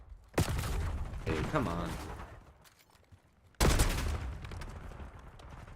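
Bursts of gunfire in Black Ops 6 hardcore multiplayer, a sharp loud volley near the start and another heavy burst after a lull, with someone talking over the action.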